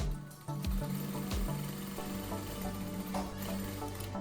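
A Sun Special SS1967X straight-stitch sewing machine runs in a steady, fast mechanical whir with rhythmic needle clatter, loud and close, alone without talk.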